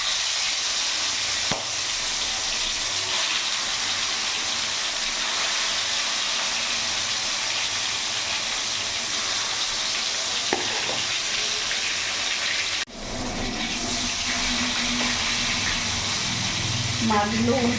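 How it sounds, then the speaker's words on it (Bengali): Live silver carp pieces fry in hot mustard oil in a wok, making a loud, continuous close sizzle with a sharp surge partway through as more fish hits the oil; a voice is faintly present. "এবার এক এক করে মাছগুলো আমি ছেড়ে দেবো।"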